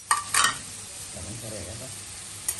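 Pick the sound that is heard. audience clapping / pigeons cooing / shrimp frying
shrimp frying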